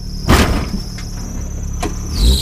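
Brakes of a Ford Explorer squeal in a brief burst, then a second shorter squeal follows, close and loud over a low vehicle rumble with a steady high whine running underneath.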